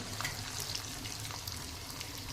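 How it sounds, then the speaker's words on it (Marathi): Sun-dried semolina sticks fry in very hot oil, making a continuous loud, dense sizzle with faint bubbling and no voices. "आता आपण या तळणार आहोत तेल एकदम कडकडीत असं गरम केलेलं आहे"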